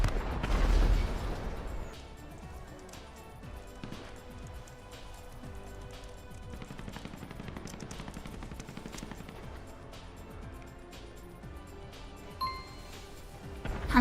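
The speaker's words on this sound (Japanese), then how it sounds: "花火綺麗だね。" Fireworks bursting in a GTA game session, a dense run of rapid pops and crackles through the whole stretch, loud at the start and then steady, with a sharper burst near the end.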